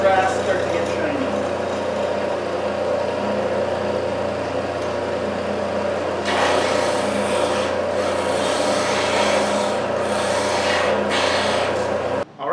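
A wood pen blank with a brass tube is rotated against a spinning sanding disc to square its end, giving a steady rubbing, rasping grind with a motor hum beneath and a sharper burst of sanding partway through.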